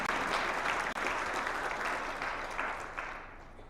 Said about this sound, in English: you all deserve a great big round of applause for making it to this point